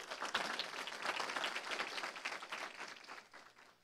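Audience applause at a town hall meeting, a dense patter of many hands clapping, fairly faint and distant, tapering off toward the end.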